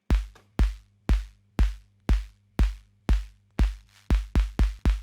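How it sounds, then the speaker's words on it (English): Punchy kick drum sample sped up to a steady 120 BPM, about a dozen tight, loud hits in even rhythm with a quick doubled pattern near the end, dry and close with no voices. "So what I did is I just grabbed a short section of the kick and sped it up"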